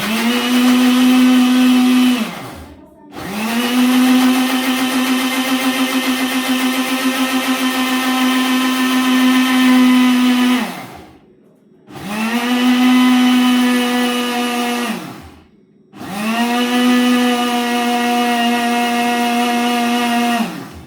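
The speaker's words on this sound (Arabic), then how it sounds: "نضرب المكون في الخلاط" A loud electric blender mixing cake batter runs in long steady stretches, cutting off briefly three times before whirring back up to full speed.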